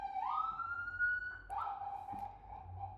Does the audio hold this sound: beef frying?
no